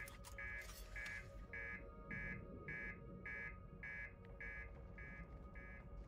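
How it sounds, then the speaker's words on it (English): Reactor master alarm in the video game Outer Wilds, buzzing in a steady repeating pattern of about ten short, even pulses over a low rumbling background, loud and alone with no talk. "Master alarm, what is happening?"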